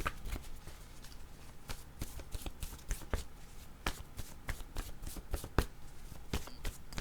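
Tarot cards shuffled and laid down, a rapid run of crisp riffling flicks and soft slaps, close and fairly quiet, with no talk.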